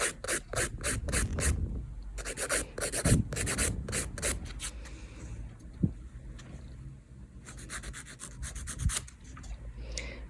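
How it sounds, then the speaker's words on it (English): A nail file rasps across lifted acrylic on a fingernail in quick back-and-forth strokes, short bursts of close scratchy rubbing separated by brief pauses. "you want to work just above the lifting and just keep filing, and you'll eventually start seeing it lift away"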